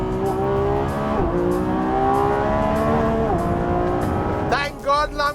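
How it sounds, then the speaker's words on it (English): Loud, close Lamborghini Revuelto naturally aspirated V12 hybrid revving hard, its pitch climbing through several gear changes in a steady rising howl, with a brief burst of excited voice near the end. "just listen to that V12"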